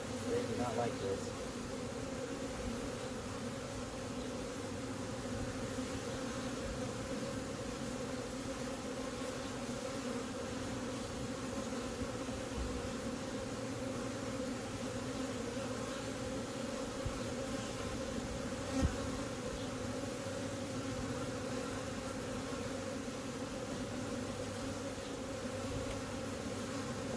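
Honey bees swarm around an open hive during an inspection, making a dense, steady, continuous buzz that fills the whole half-minute at close range.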